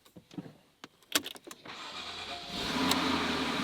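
Car engine cranking and catching after a new battery is fitted: a few faint clicks and shuffles, then the starter whirs and the engine fires into a steady, moderately loud idle.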